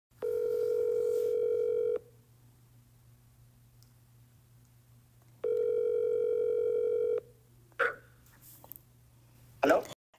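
A telephone line tone sounds loudly in two steady two-second beeps separated by silence, followed by a couple of brief clicks and rustles as a phone interview call connects.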